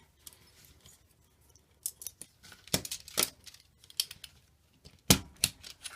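A stapler pressed down on paper gives scattered sharp metallic clicks and snaps, a few much louder than the rest, close by in a quiet room with no talk.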